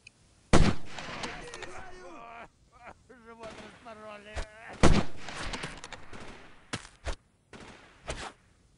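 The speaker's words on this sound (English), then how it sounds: "I shot you like multiple times." Gunfire in the Delta Force 2 video game: several sharp, loud shots scattered irregularly, interleaved with a player talking.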